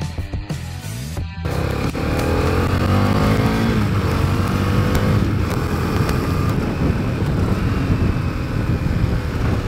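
A Husqvarna Svartpilen 250 motorcycle being ridden, its engine revving loud and close as the pitch climbs and drops through the gears, with a steady drone and no talking.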